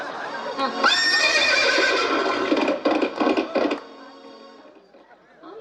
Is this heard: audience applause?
no